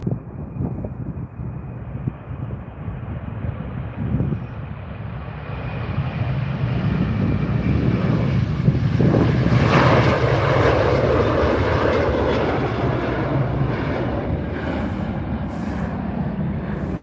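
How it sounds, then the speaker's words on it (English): A WestJet airliner arriving at Calgary Airport on runway 35R on a chilly morning, its engine roar rising from a distant whine to a loud, close rumble near the middle, then easing off as it passes. "here comes a WestJet"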